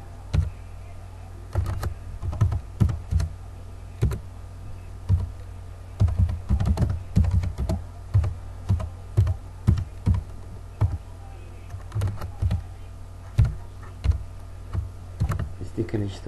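Typing on a computer keyboard while writing Pascal code, with irregular bursts of close, crisp key clicks and pauses between them.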